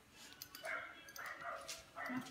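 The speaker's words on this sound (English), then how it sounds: "The dog screaming." A dog on a farm barks and yelps from inside near a window or door, several sharp high-pitched cries in quick bursts, fairly faint and distant.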